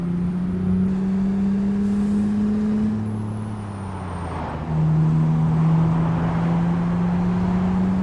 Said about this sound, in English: the truck I'm using at the moment is the Peterbilt mod